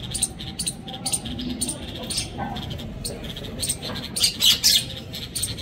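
Small, thin high chirps from a bulbul chick come in scattered bursts, brightest toward the end, over a low background rumble.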